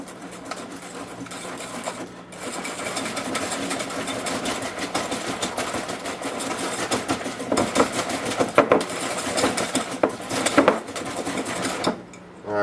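A motorized mixer whirs steadily through chocolate chip cookie batter in a bowl, a continuous buzzing drone with clinking and rattling against the bowl, rising a little louder toward the end before cutting off.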